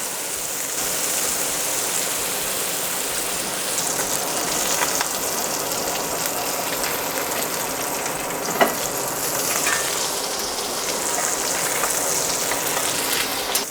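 Wild salmon fillet frying skin-side down in a pan of brown butter while being basted, a loud, dense, continuous sizzle and spatter with a couple of spoon clinks, close up and uninterrupted.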